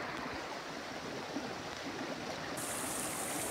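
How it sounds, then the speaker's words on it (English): Mountain creek, Wildcat Creek, flowing steadily, a close, continuous broadband rush of water with no voices, brightening slightly toward the end. "That'll be Wildcat Creek"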